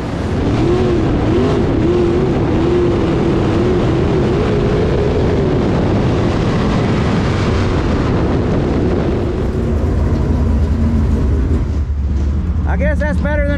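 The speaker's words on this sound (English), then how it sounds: "He's coming to the checker, Ashton Winger." Race cars roar past close by at the checkered-flag finish of a fall classic finale at Whynot Motorsports Park, a loud sustained engine drone with shifting pitch throughout, joined near the end by a brief high whine and announcer talk underneath.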